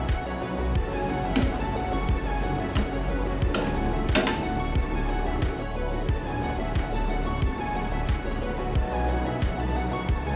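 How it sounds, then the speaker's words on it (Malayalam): A spoon stirs lemon pickle with ground fenugreek and mustard in a pan, making repeated close taps and metallic clinks in an uneven rhythm over a steady kitchen background. "ഒക്കെ ആഡ് ചെയ്തിട്ട് നന്നായിട്ട് അതിനെ ഇളക്കി കൊടുക്കുക"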